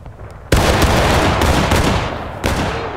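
A massed rifle volley from a battle line in the Civil War game War of Rights: a loud, sudden crash of many muskets firing almost together, rolling on, then a second ragged burst near the end.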